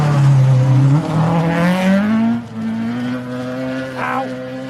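A Mark II rally car at a stage hairpin of a snow rally event roars close by, engine note dropping and then climbing again as it accelerates out of the bend, loud and continuous with no talk.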